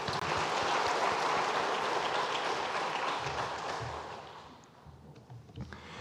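A church congregation applauds in encouragement of a bereaved family during a Sunday service. The broad, full clapping is loud at first, then thins out and fades after about four seconds.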